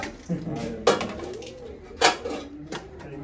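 Metal cooking pots and a karahi wok are handled outdoors, giving a few sharp clanks and clatters spread over a few seconds amid background voices and ambient noise.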